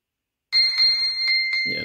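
A Xiaomi Mi Smart Band 5 find-device alert chimes repeatedly in a steady, fairly loud electronic beeping pattern, with a brief rustle at the end.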